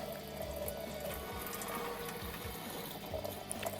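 Potted orchids are watered, giving a steady, close stream of running and splashing water with faint trickles and no talking.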